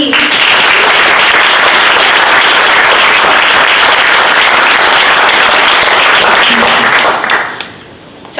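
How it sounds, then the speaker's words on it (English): An audience at a university venture competition final gives a team a round of applause: dense, sustained clapping filling the room for about seven seconds, then fading out. "So a round of applause for the team."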